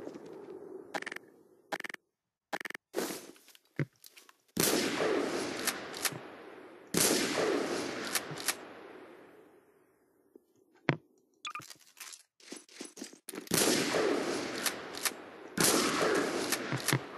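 Sniper rifle shots ring out in Garry's Mod with the M9K weapons pack, coming as several loud, sharp bursts separated by short quiet gaps, each blast trailing off in a long ringing tail.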